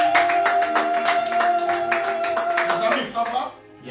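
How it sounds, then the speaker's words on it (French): A church congregation applauds with brisk, steady clapping that carries under a sustained musical tone and some voices, then cuts off abruptly near the end. "On peut l'acclamer."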